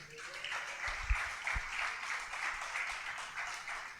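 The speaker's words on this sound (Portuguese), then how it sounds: "Dê um aplauso a ele." Applause from a church congregation during a Portuguese sermon, a steady wash of clapping held for the whole stretch at moderate level, with a couple of low thumps near the start.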